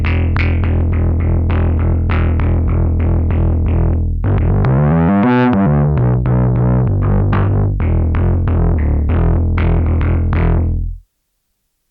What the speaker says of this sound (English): So there's your distortion.